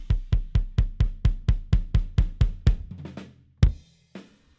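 An ungated rock kick drum track plays a steady run of about a dozen evenly spaced, punchy thumps with a ringing tail, then stops, leaving faint snare bleed and a couple of stray hits in the background.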